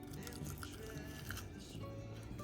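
Close, crisp crunching and chewing of easy homemade snacks in a home kitchen, a run of irregular bites and mastication sounds filling the moment with no talking.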